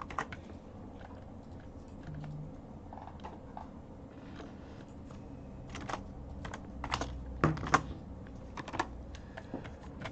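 Soft clicking of keys being typed on a computer keyboard, irregular bursts of taps getting slightly louder toward the end, quiet and close.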